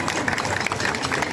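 An audience claps and applauds for the pilots after an aircraft parade at an air festival, a dense continuous patter of many hands with crowd noise.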